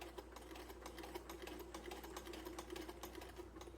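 A restored Singer 28 sewing machine stitches steadily on its first run, a fast, even mechanical chatter over a low motor hum, close and continuous.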